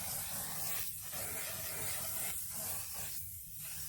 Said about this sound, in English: Now I'm just gonna go ahead and spray my face with the One Size setting spray.